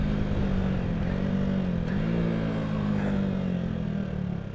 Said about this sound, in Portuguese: Eu acelerando a moto no último.